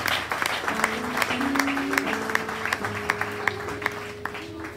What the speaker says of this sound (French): Est-ce que quelqu'un peut encore acclamer très fort pour ce